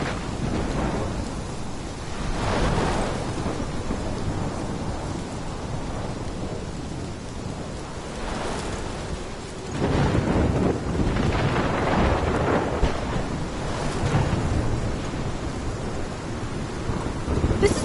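A thunderstorm in the video game Life is Strange: steady heavy rain and gusting wind with deep rolling thunder swelling several times, loud and continuous, with no voices.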